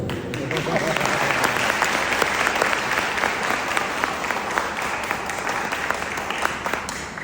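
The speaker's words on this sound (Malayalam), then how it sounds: "അത്രയും വലിയ കൈയടി വേണം എന്നാണ് പറഞ്ഞത്" An audience bursts into sustained, dense applause at a speech event, loud and continuous clapping lasting several seconds with a faint voice underneath.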